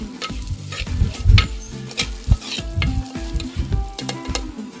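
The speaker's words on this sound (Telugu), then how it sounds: "అవి పచ్చివాసన పోయిన వరకు వేయించుకొని పెసరపప్పు అందులోనే వేసి ఒక 2-3 నిమిషాల పాటు కలుపుతూ వేయించుకోవాలి" Moong dal sizzles with ginger and garlic in a clay pot, stirred repeatedly so the loud, close frying hiss is broken by rhythmic scraping and clattering strokes.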